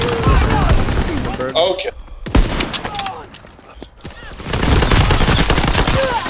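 An SMG fires in Call of Duty: World War II, loud continuous bursts of rapid gunfire with a brief lull midway before shooting resumes, and a voice speaks briefly over it.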